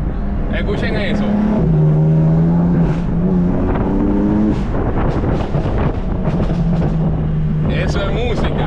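Exhaust of a 600 hp BMW M4 fitted with an aftermarket exhaust, heard from inside the cabin: loud, continuous engine drone with repeated rev swells and dips, close and dominant throughout.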